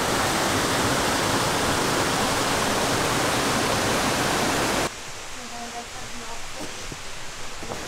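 The Acquafraggia waterfall in Lombardy, heard from its top, fills the air with dense, loud rushing noise, then cuts to quieter surroundings with faint tonal sounds.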